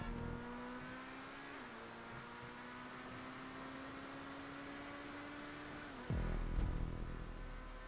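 A Progen Emerus supercar engine in GTA 5 holds a steady high-speed drone on a long straight, with a gear-shift dip midway and a louder burst near the end.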